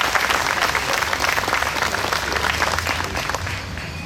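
Audience at a Licking County Courthouse marker celebration breaking into steady, dense applause that carries on throughout and eases slightly at the close.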